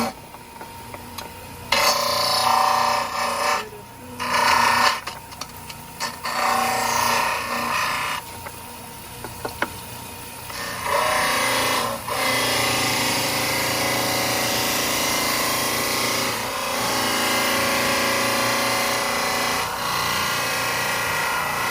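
A dental trimmer grinds plaster orthodontic models into a horseshoe shape, a harsh abrasive whirring that cuts in and out in short bursts at first, then runs steadily and loud.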